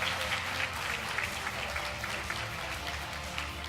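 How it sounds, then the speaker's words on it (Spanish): Audience applause welcoming economist Martín Redrado onstage at the Inspiring Summit 2019, a dense, steady wash of clapping from a large crowd that fills the whole stretch at an even level with no talk over it. "les pido un muy fuerte aplauso"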